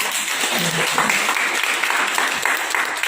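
An audience applauds their boss at a Happy MPM product event, a broad sustained patter of many hands clapping with faint talk mixed in.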